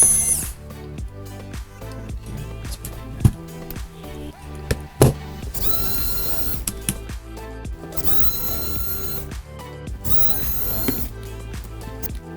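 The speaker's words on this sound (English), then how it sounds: "using an electronic screwdriver is not that much faster than doing it by hand" An electric screwdriver backs screws out of a Dell Inspiron 13-inch 5000 series laptop during a battery replacement, whirring in several bursts of a few seconds each, close and fairly loud, with short quiet gaps between them.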